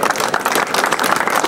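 Audience applause at a civic campaign event in Jaén, Peru: dense, steady clapping from a crowd, loud and continuous throughout with no pause.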